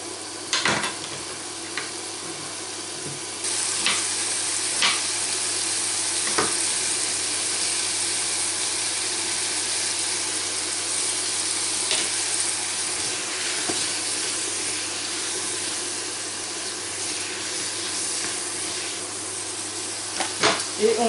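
Diced apples cooking gently in a pan over low heat give off a soft, steady sizzle and faint hiss, with a few scattered clicks from stirring.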